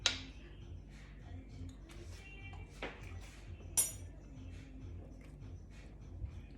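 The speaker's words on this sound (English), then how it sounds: "just cut through one of my prawns and taste this" Quiet, sparse clicks and light clinks of a knife cutting through a cooked masala prawn on a plate, a handful of isolated taps spread across a calm background.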